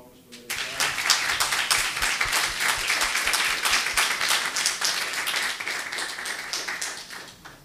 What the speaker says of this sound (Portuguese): Salva de palmas para Maria Clara.